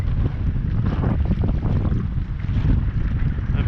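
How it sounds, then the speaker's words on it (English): Strong wind buffets the microphone while out on the water in a small paddled boat on a very windy morning, a loud continuous low roar with gusty surges and water noise, no talking. "yeah, a little bit windy."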